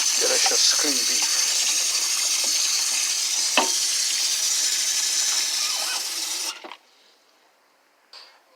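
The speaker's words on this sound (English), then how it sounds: "So I'll give it a final rinse of clear water." Water gushes steadily and loudly as soaked beef is rinsed in clear water, with sloshing and a brief knock partway through, then the flow stops abruptly near the end.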